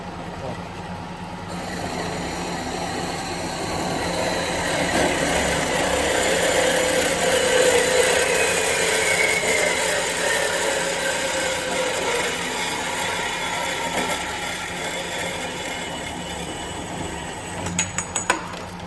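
A CNC machine with coolant running saws through a metal pipe blank, a sustained grinding, whirring cut that swells mid-clip then settles, ending with a few sharp clunks as it stops; steady and fairly close.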